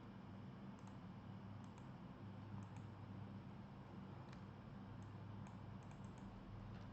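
Light typing on a computer keyboard: sparse, faint clicks in small irregular bursts over a steady hum of room noise.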